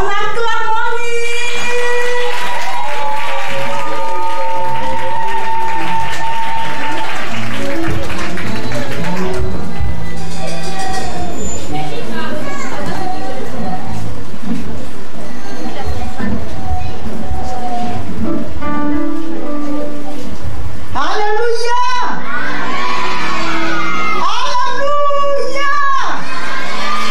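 A crowd of children and adults at a Christmas Eve event cheering and shouting loudly for the director, a sustained roar of voices with bursts of whoops and claps, with a spoken voice at the start.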